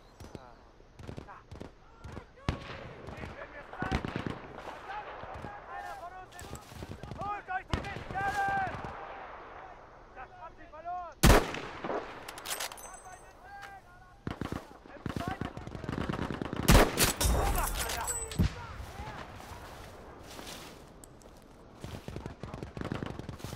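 Gunshots ring out in a video game, scattered sharp bursts and single cracks spread across the stretch, some loud and close. Voices talk between and over the shots.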